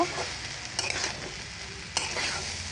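Curry seasoned with cumin powder frying in a pan, a steady sizzle broken by two sharp scraping strokes of a spoon stirring it.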